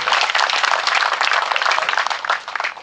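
Steady, dense applause from an audience of about forty people welcoming club members at an annual general meeting, held at an arts village, sustained and loud throughout.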